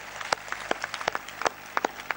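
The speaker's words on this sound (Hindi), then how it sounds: "एक बार जोरदार तालियां बजा दो भाई" An audience at a voter awareness rally claps in a loose, scattered burst, individual sharp claps close together, moderately loud and without talking.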